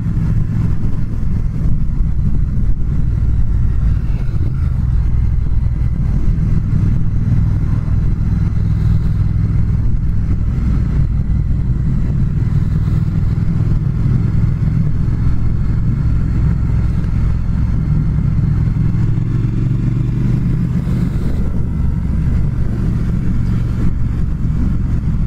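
A 2019 Triumph Speed Twin motorcycle engine heard while riding, a loud steady low rumble with wind roar throughout, the pitch easing and rising slightly near the end.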